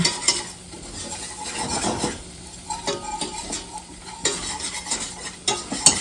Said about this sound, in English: we're going to add in a 1/4 cup of our flour, and we're just going to stir that around for 1 minute